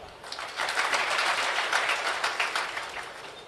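An audience claps at a guru's religious discourse, a dense crackling burst of applause lasting about three seconds, fairly loud, with no talking over it.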